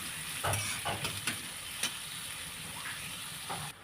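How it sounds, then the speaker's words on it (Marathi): Onion sautés in hot oil for a stuffed bitter gourd dish, giving a soft continuous sizzle with several quick scraping strokes of a spoon in the pan, fairly quiet and close. "आता हे कांदा आहे ते तेलामध्ये परतून घेते"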